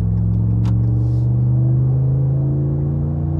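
A Ram 1500 pickup with a HEMI V8 accelerating toward 100 km/h, its exhaust giving a steady deep, loud low burble and rumble heard from inside the cab, with no talking.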